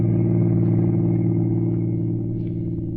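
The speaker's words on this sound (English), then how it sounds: "he was behind the wheel of a car, rolling smoothly along a lonely highway" A car engine hums in a smooth, steady low drone, as if heard from inside while the car drives at a constant speed.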